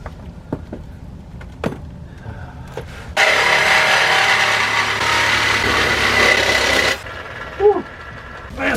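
Power saw cutting very close to the heat shield of a GMC engine during a scrap-yard revival, a loud steady rasping burst of about four seconds between scattered clanks and handling noises.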